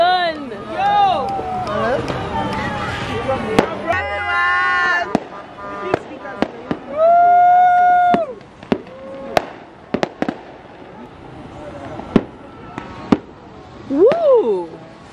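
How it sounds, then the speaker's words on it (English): New Year fireworks over Takwa Bay bang and crackle in a rapid series of sharp nearby bursts, with whistling rockets and a crowd cheering and shouting throughout. "The fireworks have begun!"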